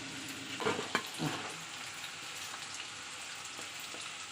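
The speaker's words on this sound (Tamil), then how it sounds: "இவ்வளோ எண்ணெய் ஊற்று பொரிக்கும் போது அது வெடிக்கும்" Shallots fry in oil, sizzling steadily with a crackling hiss, punctuated by a few sharp pops and spattering bursts near the start, then settling into an even fry.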